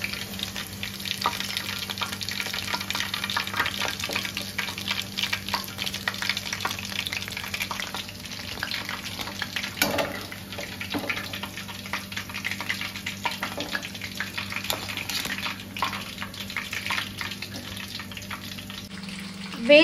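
Marinated chicken kebab frying in oil makes a dense, busy sizzle with crackles and bubbling throughout, close and fairly loud, ending with a sudden knock.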